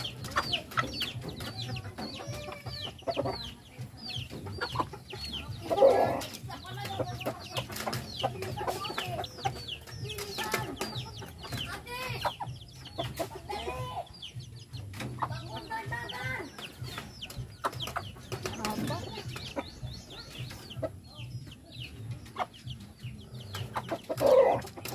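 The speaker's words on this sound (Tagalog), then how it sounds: "mga uban na siyang mga manok" Native Bisaya chickens cluck in scattered, overlapping calls at close to moderate distance, with short sharp squawks standing out over a steady low rural background.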